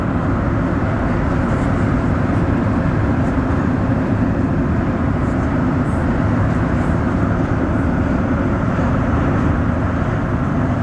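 Montreal Metro train on rubber tyres rounding a curve while climbing between stations, a steady loud rumbling roar with dense low-end drone and continuous rolling noise throughout, no voices.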